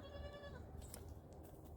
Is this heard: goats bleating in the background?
yes